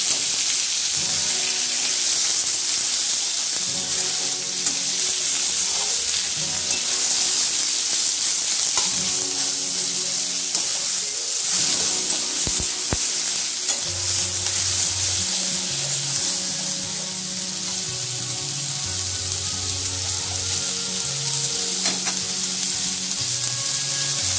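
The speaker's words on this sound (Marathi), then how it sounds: "फोडणी द्यायची। कांदा छान गोल्डन कलर येईपर्यंत परतून घ्यायचा।" Chopped onion sautés in hot oil for a kurdai bhaji, a loud continuous close sizzle with occasional stirring scrapes and clinks, and a faint low hum beneath in the later part, with no talking.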